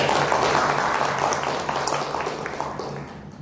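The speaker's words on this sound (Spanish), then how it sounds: "para quien un aplauso" An audience applauds for a speaker at an academic research talk, a broad, fairly loud wash of clapping that slowly fades, with a low hum underneath.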